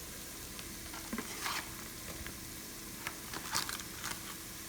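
Masala powders (coriander, cumin, garam masala and meat masala) lightly frying and being stirred in a pan for chicken dum biryani. Soft, steady sizzle with a few brief scraping stir sounds; no talking.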